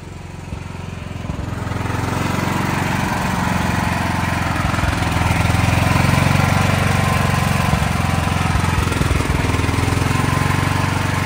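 Backup generator engine runs during a test, a steady loud mechanical drone with a faint uneven sputter as fuel runs low, rising after the first second and holding close, with no talking over it.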